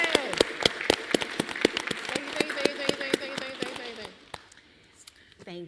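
An audience at a college Women's History Month event gives a round of applause, a burst of fairly close, sharp claps that thins out and fades near the end, with faint murmuring underneath.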